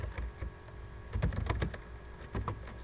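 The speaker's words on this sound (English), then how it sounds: "I'm going to type my name, the date," Typing on a computer keyboard, a close, rapid patter of key clicks in short uneven bursts over a faint steady hum, no voices.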